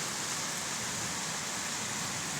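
Heavy summer rain pours down in a steady, dense hiss with no breaks, loud and close, with no voices over it.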